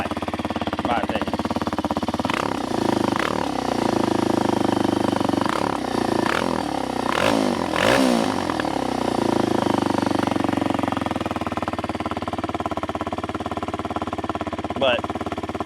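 A 2024 Kawasaki KLX 230R motorcycle engine runs at a high idle while warming up, a steady close-up drone with several sharp revving bursts midway, and a person talking over it.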